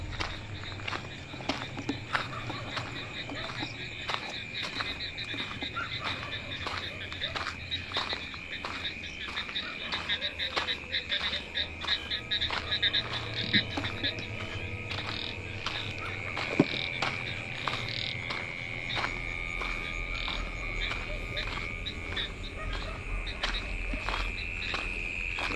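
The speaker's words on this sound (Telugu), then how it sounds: "కప్పల అరుపులు ఎక్కువగా ఉన్నాయి." Frogs croak in a dense, continuous night chorus around a village, mixed with steady cricket and insect chirring at moderate loudness. Faint rustling steps can be heard.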